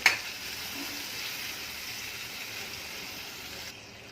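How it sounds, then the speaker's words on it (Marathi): Kalete fish stirred with ground masala in a pan, giving a steady soft sizzle and scraping hiss from start to finish, with one brief sharp clink at the very beginning. "वाटण घातल्यानंतर सगळ्या कालेट्यानं व्यवस्थित सगळं ढवळून घ्यायचं आहे"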